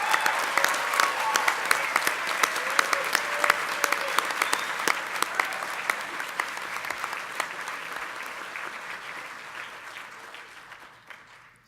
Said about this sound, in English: Please join me in a round of applause in congratulating these students on this very happy occasion.